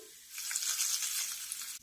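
Browned garlic tempering poured into batter gives a short, bright sizzle that rises quickly, holds for about a second and a half, then cuts off abruptly, close and fairly quiet with no voices.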